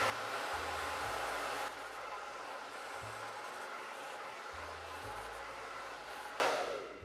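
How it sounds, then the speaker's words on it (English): A blow dryer rushes air over hair wrapped on a round brush, a close, steady whooshing broken by low muffled handling bumps and a sudden louder blast near the end, with no talk. "blow dry my ends into the curl pattern in the right direction"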